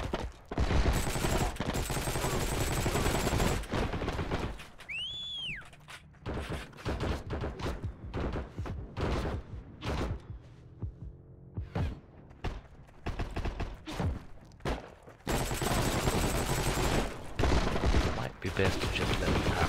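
Gunfire from the video game Heroes and Generals, rapid bursts of sharp shots and crackling fusillade in loud clusters with brief lulls, a rising whistle midway, and someone talking in between.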